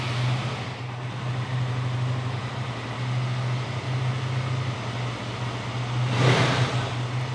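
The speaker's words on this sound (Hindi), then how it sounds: "अभी करते हैं बाइक को स्टार्ट।" A motorcycle engine idles steadily after starting, a continuous low hum running alone without talk, with a brief rise in intensity near the end.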